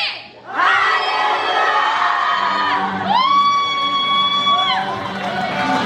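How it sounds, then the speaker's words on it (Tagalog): A youth camp crowd gathered for worship shouts together in one loud, sustained, rising cheer, voices blending into a long whoop that swells near the middle and holds to the end. "Isang malakas na hallelujah!"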